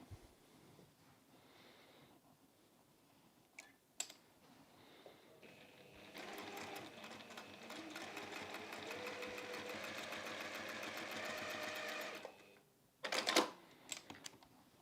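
A sewing machine stitches through pinned quilt layers for a reversible quilt-as-you-go project, running in a steady, fairly loud whir for several seconds after a few quiet handling clicks, then stopping before a brief rustle.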